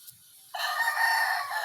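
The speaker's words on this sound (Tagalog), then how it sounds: "Tatlong tilaok lang ng talisayin at ito ay nandiyan na sa malapit." A talisayin rooster crows once, clear and fairly close, a sustained call starting after a brief quiet lead-in and holding to the end.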